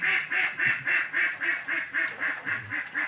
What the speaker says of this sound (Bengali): হাঁসগুলো দেখো যদি প্যাক প্যাক করা শুরু করেছে